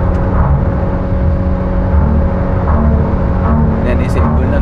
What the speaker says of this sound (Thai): นี่เสียงพื้นถนน